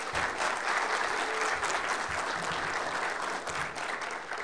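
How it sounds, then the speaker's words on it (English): A keynote audience at a networking conference gives a sustained round of applause, a dense, steady wash of clapping from a large crowd that holds its level throughout. "So let's please give him a round of applause."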